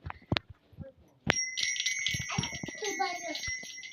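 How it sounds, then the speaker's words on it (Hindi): A bicycle bell rings with a bright, sustained chime that lingers for a few seconds, while someone talks and other voices chatter nearby. "घंटी बजाऊ"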